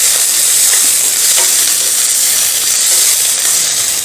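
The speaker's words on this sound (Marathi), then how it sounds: "तेल गरम झालं की यामध्ये कांदा घालायचा आहे आणि कांद्याला छान लालसर रंग येईपर्यंत आपल्याला तो परतून घ्यायचा आहे" Chopped onion stir-fried in hot oil for a Pune-style masvadi rassa: a loud, steady sizzle and hiss runs throughout, with faint scraping of the spatula stirring the pan.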